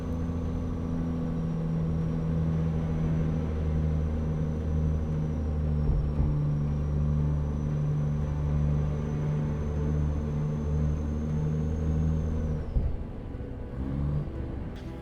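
A truck rolling along a road in American Truck Simulator, modded Canadian highway toward Whistler, with a deep steady engine drone and low rumble plus a faint high whine, loud and constant, easing briefly near the end.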